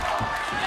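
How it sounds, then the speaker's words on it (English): A crowd cheers at an American Ninja Warrior competition with a brief, steady, loud roar of many voices. "the crowd on their feet, they love what they're seeing"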